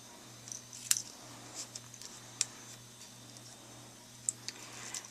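Scissors trim ribbon ends after a knot with a few sharp, separate snips, close but quiet over a faint low hum.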